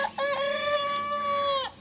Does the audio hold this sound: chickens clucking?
yes